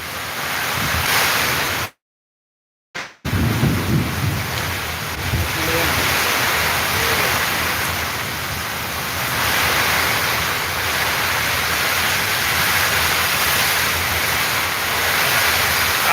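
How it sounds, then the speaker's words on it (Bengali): A nor'wester storm strikes Sylhet at night, its strong wind roaring as a loud, dense, continuous rush that cuts out for about a second before surging back just as hard. "আপনারা এই যে কালবৈশাখী ঝড়ের যে আওয়াজটা আছে সেটা শুনেই বুঝতে পারছেন যে কি পরিমাণ কালবৈশাখী ঝড় হচ্ছে"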